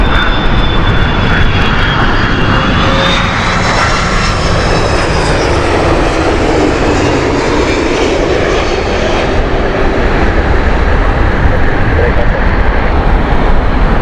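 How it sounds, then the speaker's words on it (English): An Airbus A330-200 airliner from Seattle at Heathrow Airport, its engines giving a loud, steady roar that swells and holds throughout. "A330-200 here from Seattle."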